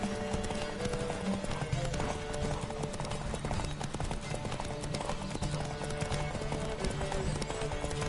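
Steady clip-clop of horse hooves at a fast gallop in the video game The Witcher 3, continuous and fairly loud, with an occasional whinny over a busy background.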